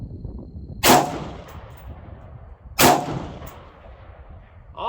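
An AR-15 rifle fires outdoors in two loud, sharp reports about two seconds apart. Each shot rings out with a decaying tail, and there is no talk between the shots.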